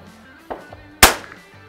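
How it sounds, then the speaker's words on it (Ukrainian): A single sharp, loud rifle shot from a Tactical Solutions survival rifle fired outdoors at a can on a sandy berm. It cracks once with a short decay and follows a fainter earlier knock. "Другий постріл також."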